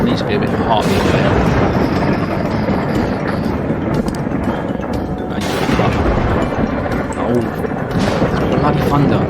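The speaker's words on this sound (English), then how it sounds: "Oh, bloody thunder! Stop!" Thunder sound effect in a video game under development, a loud continuous rumbling roar with heavier crashes, playing throughout while someone talks over it.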